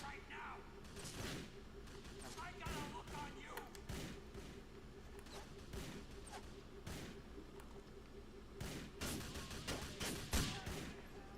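Gunfire from shooters in the video game Grand Theft Auto 4, repeated sharp shots and short bursts scattered across the scene, fairly faint beneath a talking voice and steady game background.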